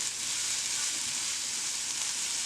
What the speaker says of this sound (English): Sizzle onions, knob of ginger, and 1 to 2 cloves of garlic.